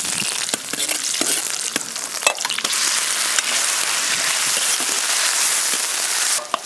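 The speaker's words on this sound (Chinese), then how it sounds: "锅里倒油，先炒牛肉，炸一点葱姜蒜末干辣椒" Beef fries in hot oil in a wok with minced scallion, ginger, garlic and dried chilies, giving a loud, dense sizzle with sharp clatters and scrapes of stirring scattered throughout, and no talk.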